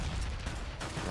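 Rapid pistol spray in CS:GO, a dense burst of gunfire shots running continuously through the moment, loud and close with no pause.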